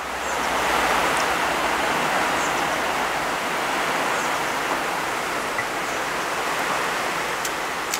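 Steady, heavy rain falls outdoors behind a house during a backyard meal of spicy mixed noodles, a loud unbroken hiss with faint scattered drips and taps, no voices over it.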